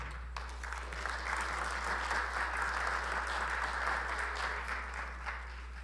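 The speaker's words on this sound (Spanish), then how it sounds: "La recibimos con calurosos aplausos." Warm applause from the audience at an international scientific seminar on quinoa, a steady even wash of clapping over a low constant hum, moderately distant and continuous.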